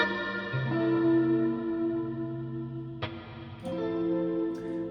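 Clean electric guitar chords ring out in sustained strums, with a fresh strum striking midway, washed in chorus-like shimmer and echo.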